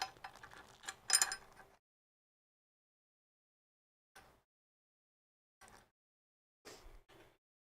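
A wrench works on the bolts of an aluminum Prosimu T1000 sim rig frame while they are loosened to add washers, giving a short run of close ratcheting clicks followed by a few isolated brief clicks separated by silence.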